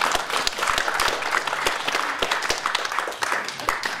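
An audience at a rugby and philosophy debate event applauds steadily with dense, even clapping throughout, fairly loud and without speech.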